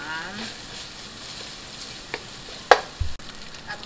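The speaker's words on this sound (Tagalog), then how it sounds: "luto-lutuin lang ang ground pork kasama ng bawang at sibuyas." Ground pork frying with garlic and onion in a pan for palabok, a low steady sizzle with a couple of sharp utensil clinks near the end, close and without talking.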